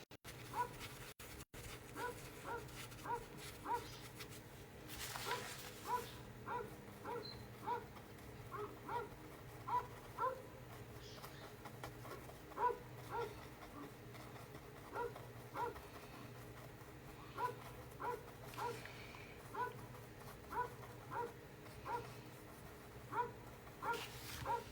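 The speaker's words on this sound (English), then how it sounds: "he's just gonna bark, bark, bark." A dog barks and yips repeatedly in a steady, evenly spaced rhythm, faint and somewhat distant over a low continuous hum throughout.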